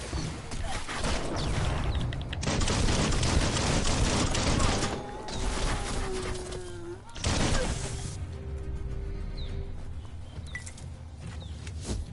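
Bursts of rapid automatic gunfire in the video game Biomutant crackle in dense volleys, with quieter gaps between, mechanical clanks and game effects mixed in.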